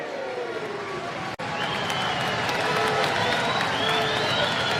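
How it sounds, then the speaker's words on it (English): Crowd cheering and applauding at a women's football club championship qualifier match between University of the Western Cape and Young Buffaloes, a broad steady roar of many voices with whistles and shouts, dipping for a split second and then swelling again. "The crowd love it."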